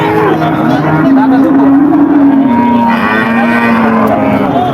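A cow at the Satmail livestock market in Jessore gives a long, loud, close moo that wavers in pitch, over a busy market murmur.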